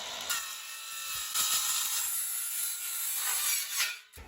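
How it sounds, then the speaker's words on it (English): A hand saw cuts through a sliding pocket door track, producing steady raspy back-and-forth strokes, close and fairly loud, continuing for several seconds. "so we're gonna cut our track at"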